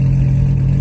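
A car at a Memphis car meet revs loudly nearby, a dense, sustained low engine roar held steady through the short moment with no talking.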